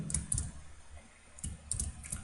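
Light clicks from a computer keyboard come in short bursts separated by brief pauses while C code is typed, fairly quiet and close.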